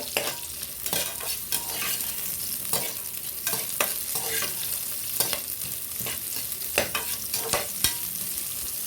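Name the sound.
onion being sautéed and stirred in a pan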